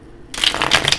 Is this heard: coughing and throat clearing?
no